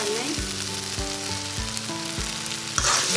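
Brain and egg mash with four green chilies sizzles steadily in a hot pan, with a few clear scraping stirs of a spatula against the pan, close and alone.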